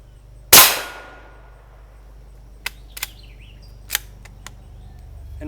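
Rounds are chambered into a Marlin XT22M rifle: one loud, sharp metallic clack, then a few softer clicks and snaps of the action spaced over several seconds.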